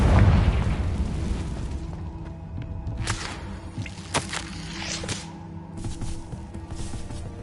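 The Confringo spell in Hogwarts Legacy goes off as a fiery blast, a deep rumbling boom followed by sharp whip-like cracks and pops that fade into a lingering low roar.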